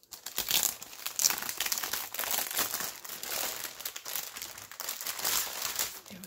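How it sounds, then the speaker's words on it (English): Crinkly plastic packaging from an Etsy shop order being handled and pulled open, a continuous close run of irregular crackles and rustles with no talk. "Sorry for the crinkle. Let's see if I can get it open."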